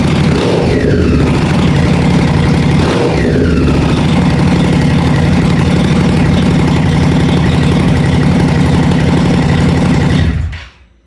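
A vintage fire service motorbike engine runs loud and close, settling into a steady, throbbing idle with a couple of short blips before it cuts out at the end.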